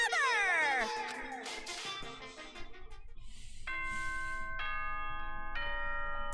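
Announcement chime from the video game Danganronpa, a sequence of bright, ringing bell-like tones that sweep and then settle into sustained, evenly spaced notes, moderately quiet and heard alone.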